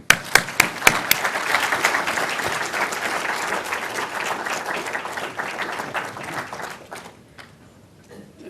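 An audience applauds to welcome Professor Henry Rowen to a lecture on foreign policy challenges for the new president, opening with a few distinct claps before dense, steady clapping that fades out near the end.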